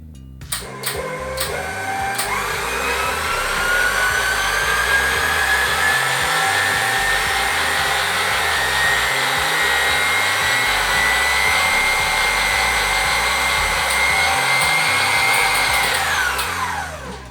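Electric stand mixer beating butter, sugar and eggs for sweet shortcrust pastry: a loud, steady motor whir with a slowly shifting pitch runs close and continuous for the whole stretch, winding down at the end, with no talking.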